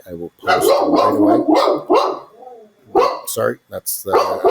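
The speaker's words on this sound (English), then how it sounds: "that's my dog" A dog barks in the background, short sharp yaps in between and under a man's speech.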